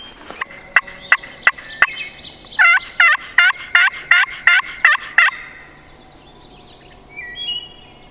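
A wild turkey gobbles in early turkey season, with a series of sharp call notes followed by about seven loud, rapid gobbles close by, then fading into quiet outdoor air.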